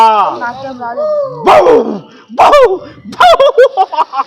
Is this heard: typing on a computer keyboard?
no